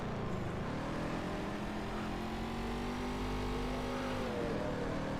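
A car in the zombie survival game HumanitZ drives and revs, its engine tone climbing and holding steady before dipping near the end, loud and continuous with no talk over it.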